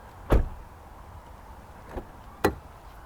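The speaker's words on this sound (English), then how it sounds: "Listen to how the door shuts." A single heavy car door of a Toyota Century V12 slams shut with a deep thud, followed by two more dull knocks, the last fairly solid, in a quiet setting.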